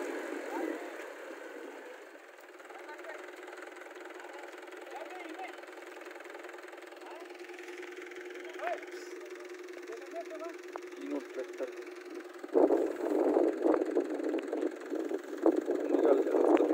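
A tractor stuck in mud runs with a steady, low engine drone that later turns rougher and louder, accompanied by bursts of clatter and strain, while people talk over it.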